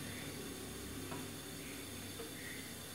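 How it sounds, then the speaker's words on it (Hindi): Water heating in a clay handi over a gas flame gives a steady, low hiss and faint sizzle with a few soft ticks, continuous and moderately quiet throughout, with no talking. "देखिए अब मैंने फ्लेम ऑन की हुई है, पानी हमारा गर्म हो रहा है इसके अंदर"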